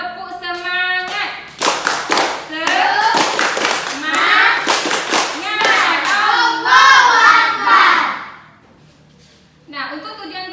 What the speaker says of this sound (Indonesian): Ayo kita melakukan tepuk semangat ya.